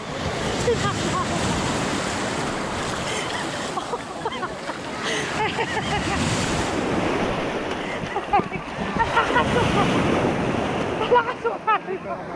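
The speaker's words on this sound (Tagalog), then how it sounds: "Lakas ng alon." Strong sea waves surge and crash along the coast at Finale Ligure, Italy, a continuous loud roar of surf with wind buffeting the microphone, while people talk and shout over it.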